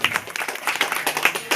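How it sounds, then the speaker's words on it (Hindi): An audience at a political meeting in Kishanganj claps to welcome guests being given garlands and bouquets, with a quick, uneven patter of hands close by. "माला पहनाकर बुके देकर जोरदार तालियों से स्वागत कीजिए।"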